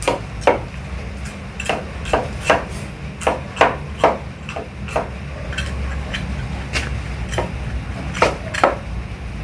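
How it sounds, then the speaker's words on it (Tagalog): A grandfather chopping a snakehead fish (dalag) for soup: a string of sharp knife strikes against a cutting board, some in quick pairs, close and loud over a low background rumble. "Hiwain niya, no? Yung dalag."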